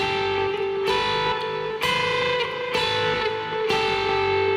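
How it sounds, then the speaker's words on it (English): Clashing two-note guitar chords struck one after another, about four in a row, each ringing with a harsh, distorted edge and no talking. "If they weren't separated by a scale note,"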